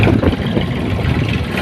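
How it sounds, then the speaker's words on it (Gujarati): A New Holland tractor engine runs steadily on a rice farm, a loud, continuous low rumble with a constant idling drone and no clear changes in pace. "આપણે ત્યાંથી ટ્રેક્ટર લઈને જઈએ છીએ"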